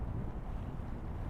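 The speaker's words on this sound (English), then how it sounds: "it's gonna start getting windy again" Wind blowing outdoors in New York City gusts against the microphone as a low, rumbling buffet that runs unbroken through the short stretch, with no voices.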